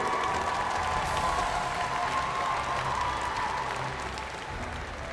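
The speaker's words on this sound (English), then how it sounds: "let's give a big round of applause" Steady applause from a large audience at an M5 World Championship esports knockout stage event, loud and continuous throughout, easing off only slightly toward the end.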